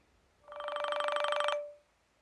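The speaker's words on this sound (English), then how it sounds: "And watch ringtone." A short smartwatch ringtone from a TicWatch Pro 3 Ultra GPS, a trilling, pulsing electronic tone that plays for about a second, then stops in an otherwise quiet setting.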